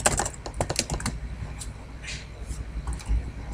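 Fingers type on a computer keyboard in quick, close, uneven clusters of clicks, denser at first and then sparser, over a low background hum.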